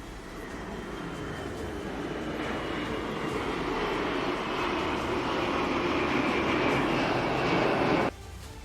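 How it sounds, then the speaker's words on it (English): A Y-20 transport aircraft accelerating into a steep, high-pitch climb at an air show, its broad engine roar building steadily and loud for several seconds before cutting off abruptly. "Now the Y-20 is accelerating, and then it will use high-speed, high-pitch angle climb to showcase its excellent flight power and maneuverability"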